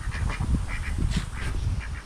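A duck quacking sound effect plays alone, a string of loud, nasal quacks in quick irregular bursts, close and clear over a low rumbling background.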